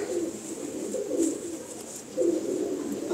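A Rampuri pigeon coos in repeated low, throaty phrases, close and fairly loud, with a brief pause before the cooing resumes.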